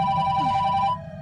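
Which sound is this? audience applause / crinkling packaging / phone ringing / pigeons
phone ringing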